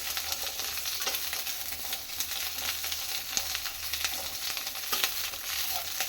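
Vegetables frying in a pan with steady stirring, a close, continuous crackling sizzle broken by frequent light scrapes and taps of the spoon, no voices.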